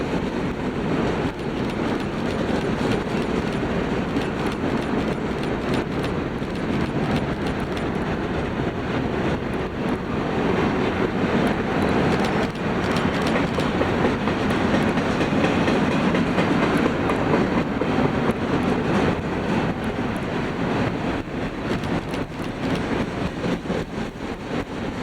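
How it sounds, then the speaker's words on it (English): An eastbound Union Pacific manifest freight train passes on a distant track on BNSF's Cajon Subdivision near Helendale, a steady, continuous rumble and roar of rolling cars with clickety-clack wheel noise throughout. "an eastbound Union Pacific manifest on the faraway track passed through."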